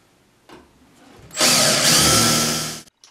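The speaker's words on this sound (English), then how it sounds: "now we're ready to drill the holes" A loud power drill drilling a pilot hole spins up and runs steadily for about a second and a half, then stops abruptly after a faint tap.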